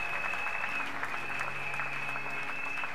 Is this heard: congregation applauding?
yes